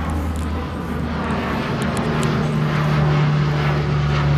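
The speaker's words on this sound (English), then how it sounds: "Sorry for the plane noise." A C-130 military plane flies over near a military base, its loud propeller drone holding a steady low hum and building slightly as it passes, with no talk.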